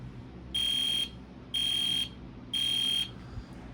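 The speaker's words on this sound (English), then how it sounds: "It's a multi-candela horn strobe." A multi-candela fire alarm horn strobe set to 30 candela, taped over from the inside, blares three evenly spaced, muffled buzzing honks of about half a second each, with brief quiet gaps between.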